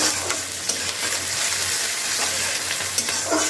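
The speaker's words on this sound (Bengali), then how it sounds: "রসুনগুলো বেশ লালচে মতো হয়ে গেছে, এটা আর একটুখানি নাড়াচাড়া করে নিচ্ছি" Garlic frying until reddish-brown in a pan while being stirred, a steady close sizzle with light scraping strokes running throughout, no voices.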